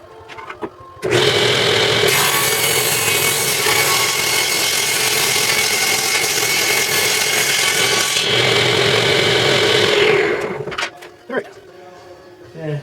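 A table saw blade cuts through wood in a workshop, a loud steady roar lasting about ten seconds before winding down, with a brief knock at the start and scattered clatter afterward.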